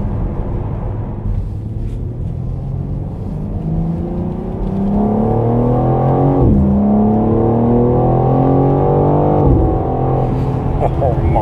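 A convertible car cruises on a dual carriageway, its engine droning and rising in pitch through the gears, with two clear upshifts and steady wind and road roar close by.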